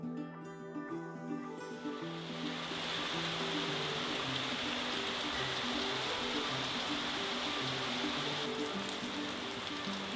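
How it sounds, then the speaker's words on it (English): Steady rain hisses evenly throughout, close and constant, with faint music-like tones beneath it at the start. "Yeah, still raining."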